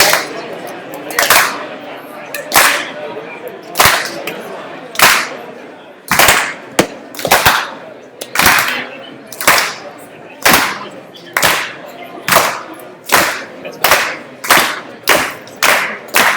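An audience at a pitch-night event in a downtown speakeasy claps in unison, sharp loud claps starting slow and spaced, then quickening steadily into a faster rhythm.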